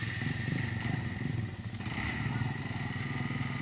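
A motorcycle stuck in deep mud drones steadily with a rough, even engine note, loud and close, with no voices over it.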